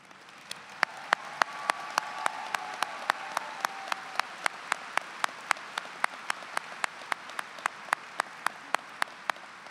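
Applause at a high school graduation ceremony, held for the teachers: a soft, steady crowd clapping wash in a large hall, marked by sharp, evenly spaced loud claps that repeat throughout.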